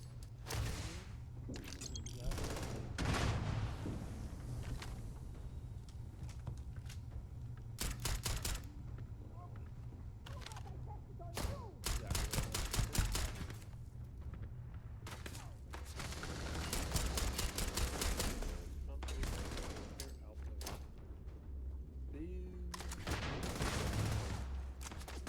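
Rapid bursts of gunfire ring out during a video game battle against the Crimson Fleet, loud volleys starting and stopping over a steady low rumble, with voices calling out between the shots.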